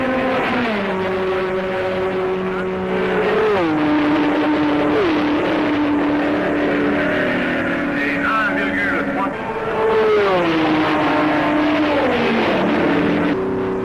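Black number 2 Ford race car at the 1966 Le Mans 24 Hours on the Mulsanne straight, its engine droning loud and steady with pitch sweeps as cars roar by, mixed with other passing engines.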